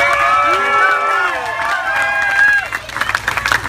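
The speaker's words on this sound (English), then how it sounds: "How about a round of applause for all our" A crowd at the Slugburger Festival in Corinth, Mississippi cheers and claps for eating contest contestants, with whoops and shouts over scattered applause, and a voice talking at the start.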